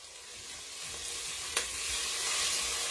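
Clam bouillon hits a pan of onions and celery, and a steady close sizzle of frying fills the moment, with one brief clink near the middle.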